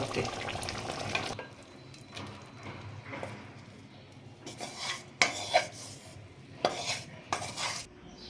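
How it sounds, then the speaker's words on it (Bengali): Finished prawn coconut malai curry being poured and scraped out of a pan, with a continuous scrape at first, then sporadic metallic clinks and knocks of a spoon against the pan, close but fairly quiet. "তরকারিটা হয়ে গেছে এবার আমি ঢেলে নেবো"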